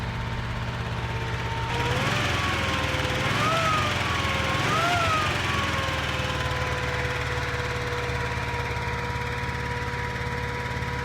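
A Zaporozhets car engine in a video game runs with a steady, loud mechanical drone throughout, rising in pitch through three revving surges in the middle before settling back to an even idle.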